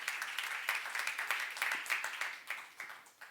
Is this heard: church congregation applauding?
yes